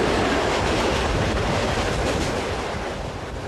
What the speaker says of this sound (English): the train rolls on through the night